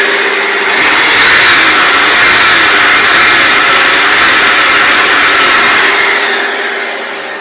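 A Ford Scorpio car engine revs up and holds a steady high roar for several seconds before easing back down, loud and close.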